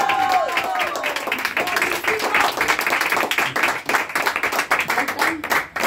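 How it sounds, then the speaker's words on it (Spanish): An audience claps after a mariachi song at a birthday celebration, dense and lively at first, then thinning into scattered claps before ending. "Sí, señores, el aplauso ya."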